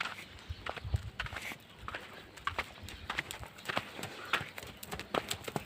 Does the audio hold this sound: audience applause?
no